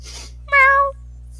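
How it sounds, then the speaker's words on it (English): One clear, loud cat meow, sounded as an effect during a tabletop role-playing game session, standing alone over a quiet steady hum. "There's a cat."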